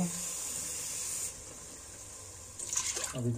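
Water runs from a tap into a cooking pot while stuffed peppers with meatballs in tomato sauce are being prepared, a steady hiss that fades partway, then louder splashing and gurgling as the pot fills.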